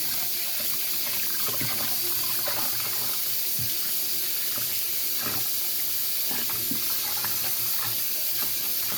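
Oxtail meat being washed under a running kitchen tap, steady water rushing into the sink with soft splashes and handling noises throughout.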